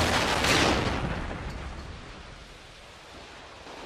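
A single sniper rifle shot in a search-and-destroy match of a first-person shooter game, a loud crack near the start followed by a long decaying echoing tail.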